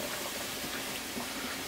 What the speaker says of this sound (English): I am gonna add a little bit of water to this just to rinse out the jar